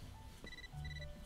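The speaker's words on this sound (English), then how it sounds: "Got text back? Phone blowing up." Short phone text-message alert tones from the Catherine video game, a few thin electronic beeps over quiet game background.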